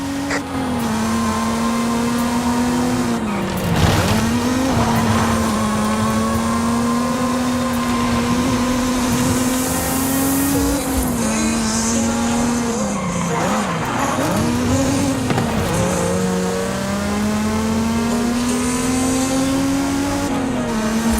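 A Mazda Miata driven through dark woods at the base of a volcano in Forza Horizon 5, its engine droning loud and steady with pitch rising and falling, plus bursts of tire squeal, without talking.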